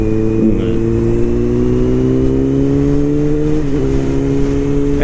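A motorcycle engine idles very low after its idle screw came off, giving a steady, loud, close rumble with a slight pitch dip and recovery partway through.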